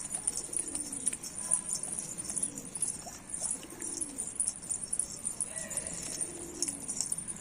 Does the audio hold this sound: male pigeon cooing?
yes